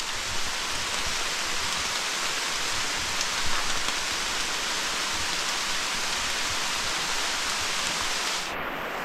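Steady rain pours down without pause in the countryside, a dense even hiss of drops with no voices.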